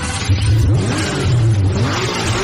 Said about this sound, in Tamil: சார், நீங்க வண்டி ஸ்டார்ட் பண்ணுங்க.